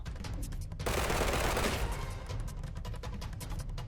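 Rapid automatic gunfire in the Roblox Combat Arena shooter, a dense continuous burst of shots, loud and close, with sustained clattering firing around it.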